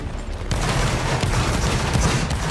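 Massed musket volley fire in the Roblox Napoleonic Wars game, a dense crackling fusillade that bursts in after a brief lead-in and keeps up loudly and continuously with overlapping shots, no voices.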